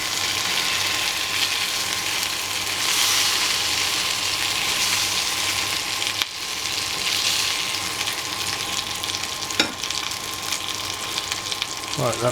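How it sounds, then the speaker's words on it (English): Chicken frying in fat in a pan on an induction cooker, a steady loud sizzle and crackle throughout with a couple of brief clatters. "But it does make a real mess frying chicken in a pan."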